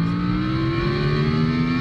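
A SoundRacer gadget plays a synthetic car engine note, a steady droning hum that rises slowly in pitch as if revving up, continuous and close.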